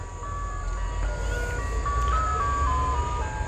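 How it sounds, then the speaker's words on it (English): An ice cream truck plays a tinny electronic La Cucaracha melody, clear and steady over a low rumbling background, with no voices. "And here comes the ice cream truck."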